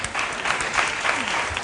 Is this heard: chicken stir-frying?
no